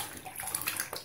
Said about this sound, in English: Let's get this rinsed off.